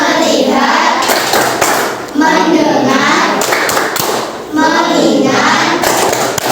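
A classroom clapping game called tepuk fokus: loud, rhythmic bursts of hand claps keep time with a chanting voice, with a short pause between phrases.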